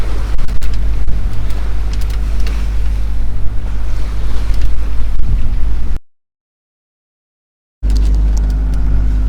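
A sailboat beating south into the wind under sail off Fair Isle, with steady loud wind and wave rush around the hull that drops out briefly near the end, then resumes with no talking.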